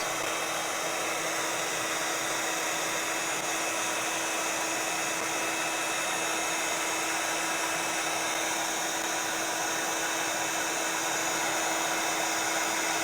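A heat tool remelts embossing powder for a December journal page, giving a steady, loud blowing whir that runs unbroken and alone throughout.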